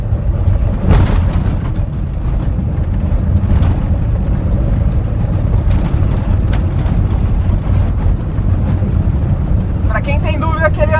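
A Peugeot 206 with a 1.6 petrol 5JP4 engine of 110 hp drives on a dirt road, its engine a steady rumble amid wind buffeting and road noise, with a person talking over it.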